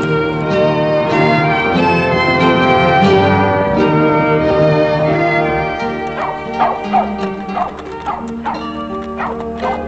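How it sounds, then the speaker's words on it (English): Several dogs barking and yipping continuously nearby, loud overlapping barks with some whimpering, set against a steady tonal background. "The dogs are barking."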